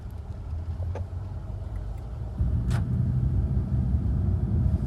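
A vehicle engine runs steadily nearby, a low continuous rumble that grows slightly louder midway, with a couple of faint brief sounds on top and no talk.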